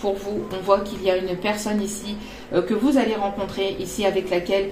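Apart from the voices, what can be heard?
No everyday noises stand out.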